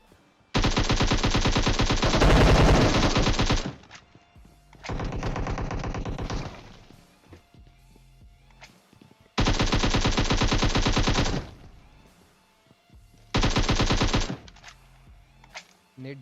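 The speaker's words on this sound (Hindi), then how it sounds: "अब देखो भले ये छुप रखे होते हैं, लेकिन गोली ये लोग बराबर चलाते हैं।" Automatic gunfire in PUBG Mobile, with AWM and Groza weapons, comes in four loud sustained bursts of rapid shots separated by quieter gaps of game ambience.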